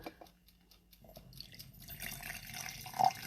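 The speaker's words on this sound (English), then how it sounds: "So I'm going to go ahead and pour some of this out." Hot Thai chai tea pours in a soft, continuous trickle that grows a little louder and brighter toward the end, with no talking over it.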